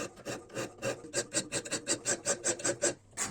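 Rapid, even file strokes rasp along the bevel of a small neck knife cut from a saw blade, about fourteen close, steady back-and-forth scrapes with no talking.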